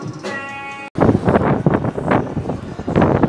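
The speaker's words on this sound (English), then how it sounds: "it seemed a little windy over there" Gusty wind buffets and rumbles across the microphone in uneven bursts outdoors in Gangnam, Seoul, following a short tonal hum that cuts off abruptly.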